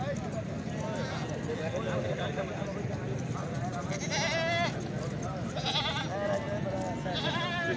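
Goats bleat a few times in a village setting, wavering calls rising over steady background noise and people talking nearby.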